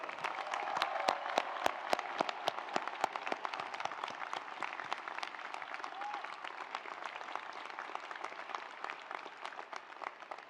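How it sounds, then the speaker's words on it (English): Commencement audience at a Stanford graduation ceremony breaking into a long round of applause, dense crowd clapping sustained for about ten seconds, loudest at the start and gradually thinning, with no speech over it. "Let's give them another round of applause."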